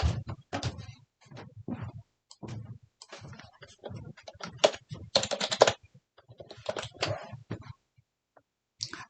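Close-up typing on a computer keyboard while entering data into an Excel spreadsheet: quick bursts of crisp keystrokes separated by short pauses, with a louder clack at the end.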